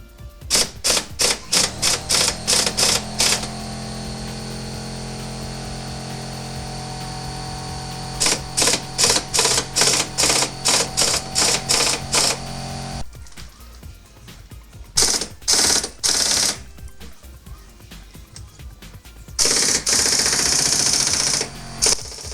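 An air wrench hammers at the bumper bolts of a third-generation Toyota 4Runner: loud, rapid rattling bursts of impacts in repeated runs, with pauses between them and a steady compressor-like hum underneath.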